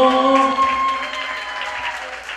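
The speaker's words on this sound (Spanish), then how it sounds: "Regálame el aplauso" Guests applaud at a quinceañera party, a steady wash of clapping that slowly fades, with a held musical tone and some voices in the room at the start.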